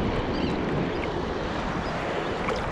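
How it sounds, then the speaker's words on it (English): Gulf surf left over from Hurricane Laura, heard from a boat off Caladesi Island, Florida: a steady, fairly loud wash of water and wind noise with no talk. "We have a little bit of a surf"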